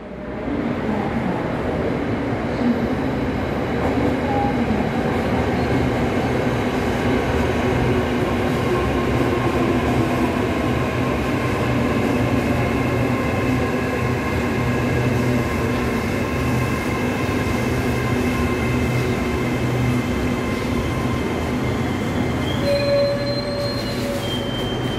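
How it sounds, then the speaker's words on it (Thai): A Red Line electric commuter train bound for Krung Thep Aphiwat Central rumbles past Bang Khen station steadily and close by, with faint squealing of wheels on the rails throughout. "ตอนนี้บริเวณทางด้านซ้ายก็จะมีขบวนรถไฟฟ้าสายสีแดงมุ่งหน้าเข้าสถานีกลางกรุงเทพอภิวัฒน์"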